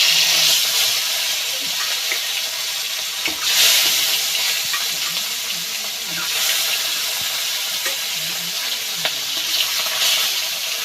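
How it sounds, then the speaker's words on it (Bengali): Fish pieces coated with salt and turmeric frying in hot oil, giving a steady, bright sizzle with louder crackling bursts every few seconds, close and continuous. "এবার মাছগুলো ভেজে নেব।"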